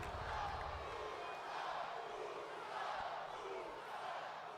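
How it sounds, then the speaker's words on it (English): Crowd noise from a WWE 2K22 wrestling arena during a SmackDown Tag Team Championship match, a steady roar of cheering that fills the whole stretch at an even level with no talk over it. "Crowd really behind the Usos here tonight"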